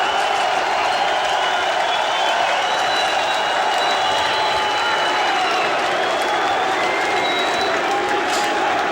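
Wrestling arena crowd at ECW Heatwave 2000 erupts in a big pop, a loud, unbroken roar of cheering and clapping with shouting voices, sustained at full intensity for the whole stretch.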